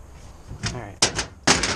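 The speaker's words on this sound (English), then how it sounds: "The door can open." A tool box door on a truck cab being worked open and shut, giving a few sharp close knocks and clunks in quick succession, with faint shop background noise between them.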